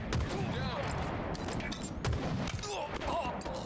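Gunfire in Halo Infinite, a busy mix of repeated shots and booms in the middle of a firefight, continuous and fairly dense, with a voice talking over the action.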